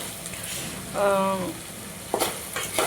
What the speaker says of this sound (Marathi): फोडणी देऊन झाली माझी